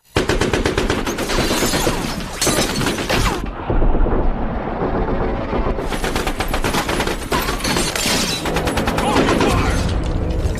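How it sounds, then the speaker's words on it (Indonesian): Wild automatic gunfire in a film action scene, dense rapid bursts of shots filling the clip, loud and close with a brief lull in the middle before the firing resumes. "Keegan dan anggotanya yang menembak membabi buta"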